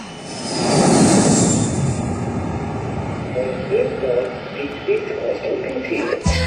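A toy train runs along a model railway track on a miniature layout with trees and a platform, giving a steady whirring rumble with small rattles and a faint hooting tone, fairly close, with a voice speaking over part of it.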